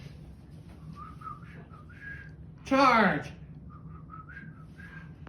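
Pet bird whistling once, a loud, bright rising-and-falling trill of about half a second, standing out over a steady low hum with faint chirps and talk before and after.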